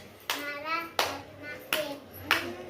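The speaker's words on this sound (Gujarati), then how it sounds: "ચાર તાળી પાડીને બતાવજે" A child in a primary classroom claps four times in a steady rhythm, one clap per word of a spoken sentence, with sharp, close claps spaced about three-quarters of a second apart over faint room noise.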